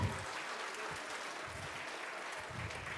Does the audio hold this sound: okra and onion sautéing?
no